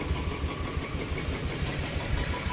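A Royal Enfield Bullet 350cc motorcycle, just fitted with a new chain set, idles close by with a steady low, even thump and no rattle.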